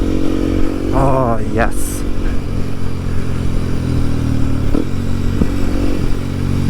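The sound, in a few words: motorcycle riding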